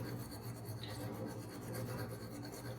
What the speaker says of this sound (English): you just take a clove that's already been peeled and you rub it on those teeth.